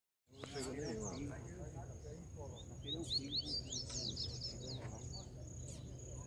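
A capuchino seedeater sings rapid, bright chirping phrases, fairly close, over a steady low background hum and some murmuring.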